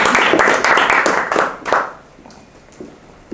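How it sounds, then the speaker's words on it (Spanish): Audience applause, a dense burst of many hands clapping that fades out over a couple of seconds into quiet room noise. "le damos un gran aplauso"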